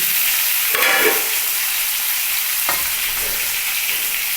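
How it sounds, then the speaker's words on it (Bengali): Mustard paste poured into a pan of half-cooked frying green bananas and potatoes sets off a loud, steady sizzle, with a couple of brief stirring clatters and no talking. "এইবার আমি সর্ষেটাও এর মধ্যে ঢেলে দিয়ে দিচ্ছি"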